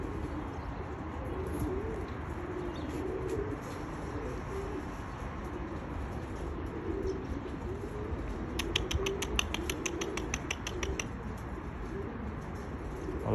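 Pigeons kept in a small group coo softly and faintly against a steady outdoor background hiss, with a short burst of rapid higher chirps partway through.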